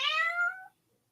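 A cat meows once, a single clear, drawn-out cry close to the microphone that fades after under a second, leaving near silence. The cat is indoors with her newborn kittens.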